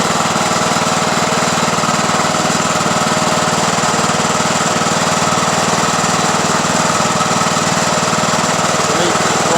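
Craftsman YT3000 lawn tractor engine running steadily, a loud, close, continuous rough rumble with a fast pulsing chatter that holds the same level throughout.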